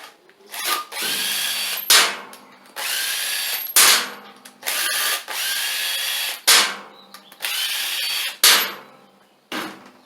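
Power drill backing bolts out of a Craftsman LT2000 lawn mower deck's blades, in repeated loud bursts of whirring with short pauses between them, close by with no talking.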